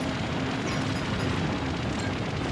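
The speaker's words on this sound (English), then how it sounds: "There goes the torpedo." A torpedo explodes in a space battle video game, giving a dense, continuous roar of broadband rumble that fills the short moment without pause.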